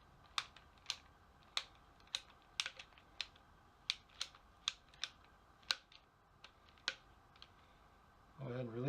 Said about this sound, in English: Get it in your expansion tool.